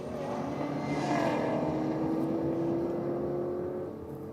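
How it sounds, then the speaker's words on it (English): Supercharger winding down on a boosted Holden Monaro drag car at the strip, a faint, steady high whine sliding gradually lower in pitch over a fading engine rumble, then tailing off. "Sound like a bit of a supercharger wind down there"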